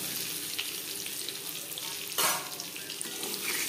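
Eggs sizzle steadily in hot oil, a close hissing crackle with one brief louder burst midway. No one speaks.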